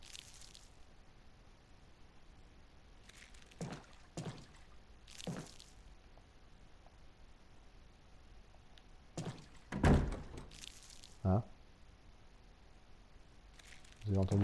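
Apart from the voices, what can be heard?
door slamming in video game Resident Evil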